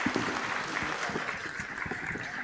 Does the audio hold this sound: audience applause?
yes